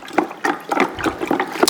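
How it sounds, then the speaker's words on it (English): Salt and sugar brine for pastrami beef ribs is stirred in a container of water, giving rhythmic splashing swishes and sloshes about every third of a second, close and fairly loud with no voices. "All right, so give the brine a good mix."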